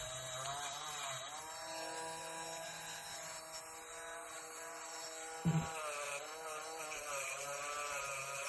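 A small rotary power tool sands rust off a button on a 35-year-old toy robot, giving a steady high-pitched whine and grinding buzz that holds throughout, with a brief bump partway through.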